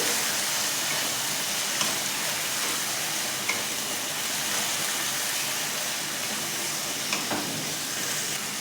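Fried potatoes and boiled minced meat sauté with spices in a pan, giving a steady, close sizzle with a few sharp scraping clicks from stirring.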